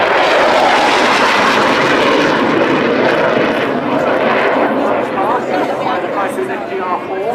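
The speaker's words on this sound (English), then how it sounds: "Typhoon FGR4." Typhoon FGR4 jet fighter flying at the Waddington airshow, a loud roaring jet engine rumble that fades slightly as it passes, with a commentator talking over it throughout.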